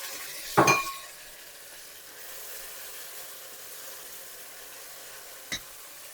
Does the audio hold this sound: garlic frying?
yes